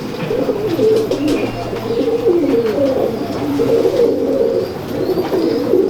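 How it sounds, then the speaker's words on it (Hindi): Teddy pigeons cooing steadily in a loft in Lahore, soft repeated rolling coos from several birds close by, continuous throughout with faint background noise. "ये भी टैडी कबूतर हैं जी"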